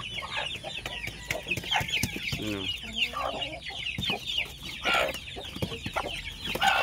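Cobra native chickens clucking and squawking nearby in a busy, irregular stream, with brief background voices.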